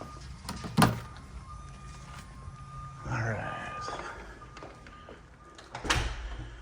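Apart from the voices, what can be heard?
front door of model home opening and closing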